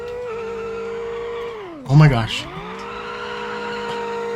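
Boosted engine in a modded racing video game running at 5 psi of boost, droning steadily with a sharp rev dip and tire squeal as one wheel spins up, while a man exclaims over it.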